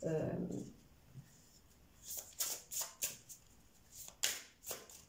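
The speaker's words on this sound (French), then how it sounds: "Je vais prendre une dernière carte." Tarot cards shuffled and a final card drawn: a brief low voice first, then a quiet close series of crisp riffling and flicking card sounds in short bursts.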